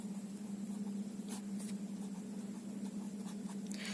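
Pen scratching on paper while a maths problem is worked out, with soft intermittent strokes over a steady electrical hum.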